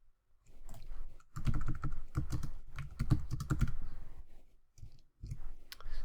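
Quick bursts of clacking on a computer keyboard, close and fairly quiet, with short pauses between runs of keystrokes.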